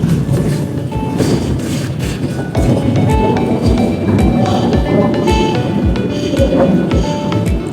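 An electric tram car at Khao Wang hill in Phetchaburi rumbles along its track, with steady rolling noise and repeated rhythmic clacks of wheels over rail joints, loud and close throughout.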